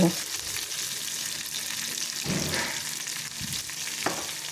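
Mustard seeds, cumin, urad dal, chana dal, dried red chillies, curry leaves and a little turmeric frying in hot oil for a mango chutney, with a steady broadband sizzle, occasional spoon scrapes and a brief louder stir near the end.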